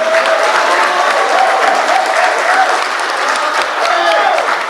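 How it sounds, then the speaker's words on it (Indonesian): Sustained audience applause fills a hall at a Bintang Muda Indonesia Rapimnas and anniversary gathering, a dense, even wash of many hands clapping loudly and steadily throughout without letup. "tepuk tangan juga buat"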